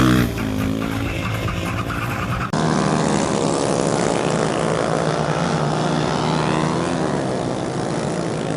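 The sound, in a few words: motorcycles racing at national motorcycling championship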